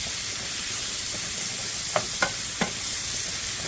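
Food frying in a pan and getting a stir, a steady close hiss of sizzling with three quick clicks of a utensil against the pan near the end, no talking.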